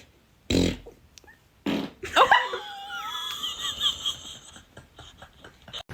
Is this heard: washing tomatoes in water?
no